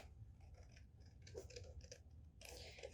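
Scissors cut through paper in a series of soft, close snips and rustles, quiet and irregular, with a brighter crisp cut near the end.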